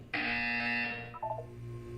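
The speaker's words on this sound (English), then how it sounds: "You will hear a buzzer. When you hear the buzzer, look up at the ceiling." Electronic buzzer from the Aperture Science facility in the video game Portal: one loud, sustained harsh tone lasting about a second, then a short descending electronic chime, with no voices.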